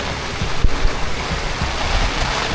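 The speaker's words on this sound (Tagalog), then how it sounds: "Grabe lang sa ulan." Heavy rain pours down during a stormy ferry ride, a steady dense wash of water noise with a few louder thumps, close and continuous, no talking.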